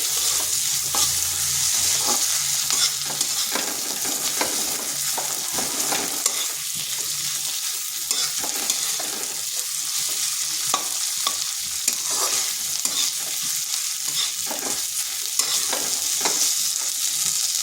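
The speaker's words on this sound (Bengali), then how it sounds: "আদা রসুনটাকেও একটু ভেজে নেব, যাতে তার কাঁচা গন্ধটা চলে যায়।" Ginger garlic paste sizzles with onions in hot oil, a dense steady frying hiss with repeated scrapes and taps of stirring, close and without voices.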